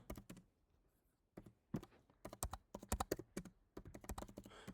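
Rapid bursts of typing on a computer keyboard, clustered keystrokes with short pauses between runs, fairly close and fairly quiet, with no talking.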